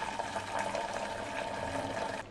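Starchy rice water pouring steadily out through a tightly held cloth while draining cooked rice, a continuous splashing liquid stream that stops abruptly near the end.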